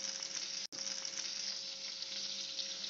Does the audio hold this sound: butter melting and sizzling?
yes